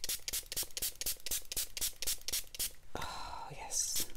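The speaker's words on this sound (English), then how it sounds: "What happens when you do the spray bottle?" Water from a spray bottle misting onto a wet-on-wet watercolor painting: about a dozen quick, evenly spaced hissing spritzes, close and crisp, followed by a short stretch of softer dripping and rustling.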